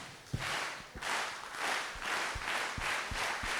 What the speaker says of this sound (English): we're going to start a slow clap to let the entrepreneur know their time is up